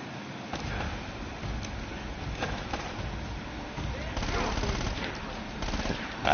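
Gunfire in the video game Uncharted, with repeated sharp shots and bursts scattered through a dense, noisy action mix, growing louder toward the end, and voices mixed in.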